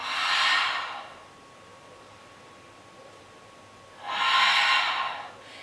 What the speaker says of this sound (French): J'expire par la bouche.